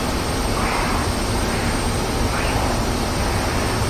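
The jet engine of a MiG-15bis in the DCS flight simulator roars as a dense, steady broadband rush with a faint rising whine as the aircraft picks up speed, loud and continuous with no voices.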